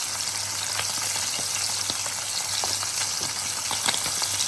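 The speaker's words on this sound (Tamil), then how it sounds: "இந்த மீன் நல்லா பொரிஞ்சாதான் முருகலாக நல்ல டேஸ்ட்டாக இருக்கும்" Sardines (keeri meen) deep-frying in hot oil give off a loud, steady sizzle sprinkled with sharp pops and crackles throughout, with no one talking.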